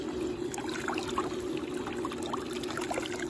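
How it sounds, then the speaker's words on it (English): Pool water discharging from a hose into a heater, a steady low trickling and gurgling flow, faint and continuous with no talking. "there's the hose going in and discharging out"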